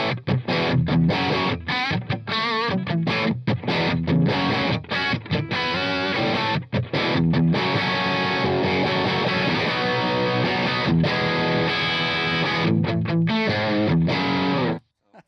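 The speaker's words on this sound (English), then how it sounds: "It's kind of a straight up kind of JMP sort of tone we got going." Dry electric guitar played through an amp's crunch channel with a JMP-style British overdrive tone, loud and close, with chords and riffs chopped by short pauses before it cuts off at the end.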